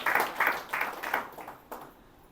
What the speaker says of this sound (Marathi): टाळ्या वाजवून देवाला धन्यवाद देऊया.